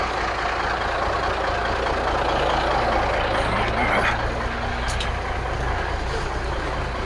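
An old truck's engine runs steadily as it drives down the road, a constant low rumbling drone with broadband noise and faint higher clanks, heard close and loud without a break.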